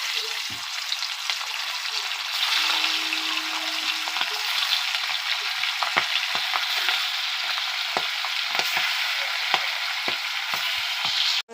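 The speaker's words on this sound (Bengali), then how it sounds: "মাছটা আমি হালকা ভেজে নেব।" Hilsa fish sizzles gently in hot oil in a wok, a steady close crackle and hiss with occasional sharp pops and the scrape of a utensil, with no talking.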